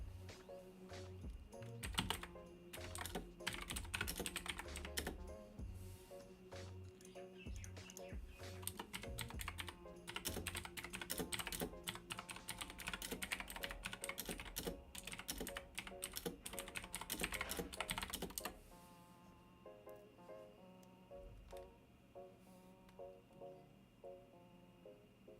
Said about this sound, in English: I'll type it to you.